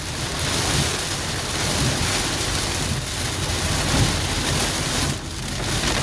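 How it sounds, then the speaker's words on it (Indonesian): Heavy rain drums on a moving car in a steady, dense roar, loud and continuous from inside the vehicle, with no talk. "Dan semakin deras ya teman-teman hujannya."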